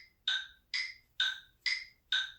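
A metronome set to 65 beats per minute ticks five times at a steady, even pace, each tick a crisp, bright, woody tone standing alone in a quiet room.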